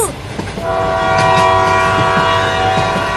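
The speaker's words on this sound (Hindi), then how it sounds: "देख चिंकिया, ट्रेन चलने लगी, अब हम स्कूल में जल्दी पहुँच जाएंगे।" A cartoon train starting to run, with a sustained horn tone over steady rolling clatter and rhythmic rail clicks that grow slightly louder; no voices.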